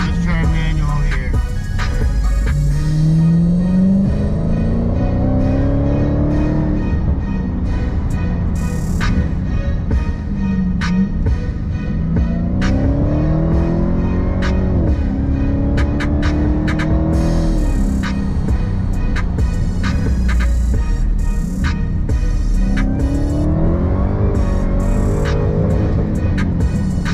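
A Dodge Hellcat engine revs loudly and steadily while driving in manual mode, its pitch climbing through several rising pulls and dropping back between them, close and dominant throughout.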